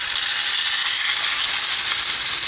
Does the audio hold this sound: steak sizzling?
yes